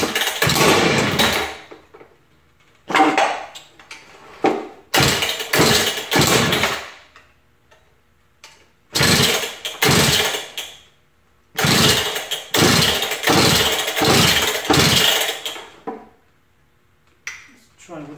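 A Partner K950 Active cutoff saw with a fuel line leak is pulled over repeatedly. Loud, close bursts of rough engine noise come about a dozen times, separated by short gaps of near silence.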